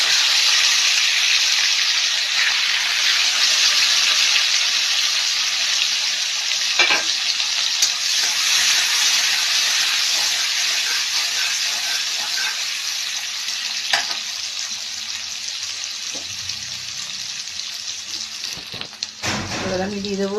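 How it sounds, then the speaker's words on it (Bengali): Green chillies go into hot oil with fried cumin in a kadai, sending up a loud, steady sizzle and hiss with a few stirring scrapes, gradually easing toward the end. "এবার দিয়ে দেবো আমি কাঁচা লঙ্কা"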